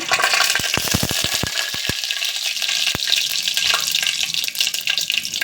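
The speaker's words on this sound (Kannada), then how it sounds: "ಎಣ್ಣೆ ಕಾದಿದೆ ಈಗ ಇದಕ್ಕೆ ಸಾಸಿವೆ ಹಾಕ್ಕೊಬಿಡೋಣ" Mustard seeds hit hot oil for tempering, first a run of sharp popping crackles in quick succession, then a steady loud sizzle with an occasional late pop, close and without talk.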